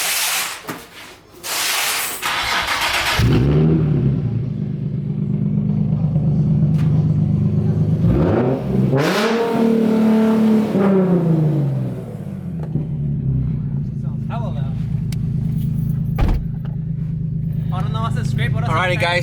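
A Nissan 370Z Nismo with a full Tomei exhaust cranks and fires up, settling into a deep, loud idle before two sharp revs swell and fall back, with a brief blip later, all close by.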